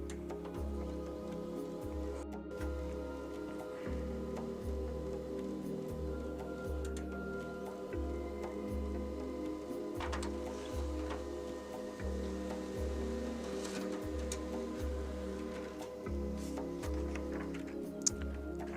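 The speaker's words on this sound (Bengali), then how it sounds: "এখন আমরা দিচ্ছি প্রুফ প্রিন্টিং সাদা পেপারে" A printer runs a proof print on white paper, its mechanism thumping and whirring in a steady repeating cycle about once a second, fairly quiet and close, with no talk over it.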